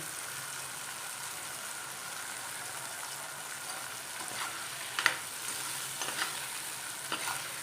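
Curry leaves sizzle in hot oil for a papaya curry, a soft steady crackle and hiss with a few sharper pops near the end, quiet and close with no talking.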